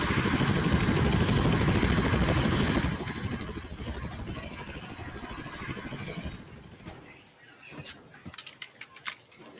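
Helicopter rotor and engine in a video game set on an aircraft carrier, a loud steady whirring drone for the first few seconds that drops lower and rougher, then breaks into scattered clattering thumps toward the end.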